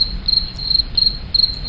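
Crickets chirping in repeated short trills at a steady rhythm, fairly close and clear against a low background rumble, with no voices.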